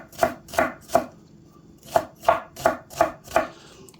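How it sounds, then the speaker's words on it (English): A knife shreds spring onions on a cutting board: eight crisp, close chops come in two quick runs, three strokes, a brief pause, then five more at an even rhythm, with no talk. "I'm just going to quickly shred these spring onions"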